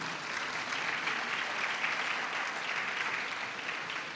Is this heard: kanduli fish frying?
no